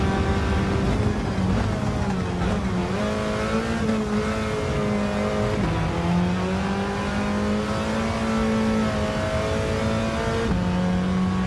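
A Mini hatchback in Gran Turismo 7, putting 300 horsepower through its front wheels up a hill, revs steadily and loudly with rising and falling engine pitch throughout, its droning tone continuous and close.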